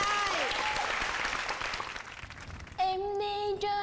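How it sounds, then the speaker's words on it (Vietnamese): Audience applause on a Vietnamese televised singing show, a dense broadband patter that fades over about three seconds before sustained harmonica notes enter near the end. "vỗ tay"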